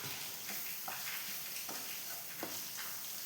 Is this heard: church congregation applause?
no